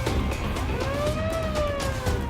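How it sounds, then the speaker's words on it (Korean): A megaphone siren in a Korean audio drama set at a street protest against the Chun Doo-hwan regime, a rising and falling electronic wail heard alone over a low background hum. "시위 주동자가 나오며 메가폰 사이렌 소리를 울리자"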